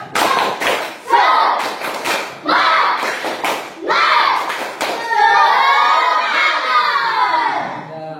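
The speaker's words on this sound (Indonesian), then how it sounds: "Tepuk semangat." Classroom group performing a rhythmic 'tepuk semangat' clapping chant, with sharp bursts of hand claps in quick patterns and children's voices chanting and shouting along, followed by a swell of excited young voices.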